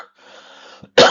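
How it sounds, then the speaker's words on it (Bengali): A single person's cough, short and sharp, comes after a faint breathy throat sound, loud and close at the end. "কাশি আসতেছে।"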